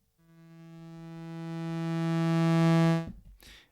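A single sustained synthesizer note swells gradually through a volume pedal plug-in, growing louder for about three seconds before cutting off abruptly, with a faint trailing tail.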